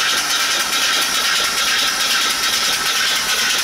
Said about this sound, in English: real nice engine though, runs really well